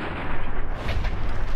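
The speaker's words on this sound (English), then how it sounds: "There's an explosion." In the video game Fallout: New Vegas, a deep, rumbling blast fills the clip, dense and loud with a heavy low-end roll, with no voices.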